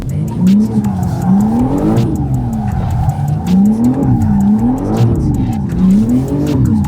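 A BMW M4 slides sideways in a drift, its engine note rising and falling in repeated waves as the tires squeal steadily, loud and close throughout.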